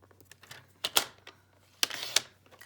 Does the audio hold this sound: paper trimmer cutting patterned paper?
yes